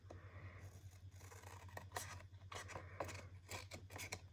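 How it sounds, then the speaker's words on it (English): Scissors snipping through card for patchwork cards, a run of crisp irregular cuts close by over a steady low hum, no talking. "And then we'll cut this one. I'll cut it from this side."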